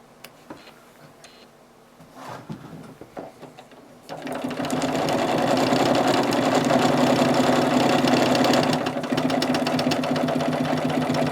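Sewing machine stitching a quilt from a laser-cut quilt kit, starting after a few quiet seconds of handling, then running steadily with a fast, loud mechanical whir.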